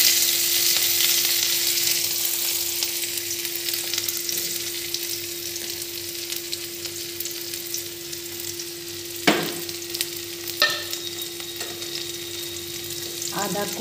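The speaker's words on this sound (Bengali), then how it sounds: "কড়াইতে এইটুকু তেল নিয়েছি, এবার এর মধ্যে আমি দেব স্প্রিং অনিয়ন" Spring onion sizzles and fries in a little oil in a wok, a steady close crackle with a few sharp stirring clinks near the end, no talk.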